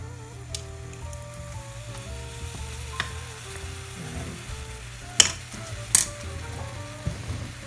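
Milk hitting a hot flour and butter roux in a pan, a steady close sizzle and bubbling hiss with a faint hum beneath and a few sharp clinks of utensil against the pan.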